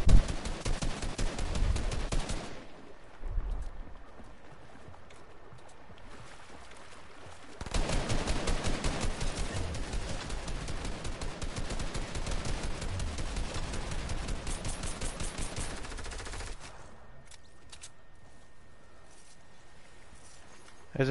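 A video game shootout sends bursts of rapid gunfire, with dense stretches of rattling shots separated by quieter gaps, fairly faint overall.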